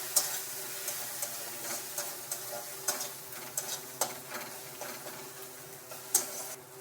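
Spices with chilli powder fry in oil for a magur catfish curry with ridge gourd, while a spatula stirs and scrapes the pan in a regular rhythm of crisp taps over a faint, steady sizzle.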